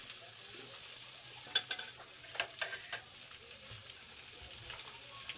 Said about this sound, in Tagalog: Hintayin natin mag-golden brown yung ating bawang ka-idol.